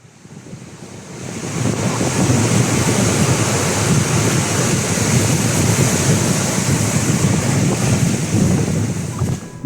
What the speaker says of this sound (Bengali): যেখানে উত্তাল সমুদ্রের উঁচু ঢেউ এসে বারবার আঘাত করছে